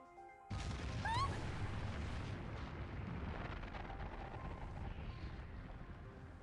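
Anime cannon attack blast, the Case Cannon: a sudden heavy boom with a rising whoosh, then a long rumbling decay that fades over several seconds.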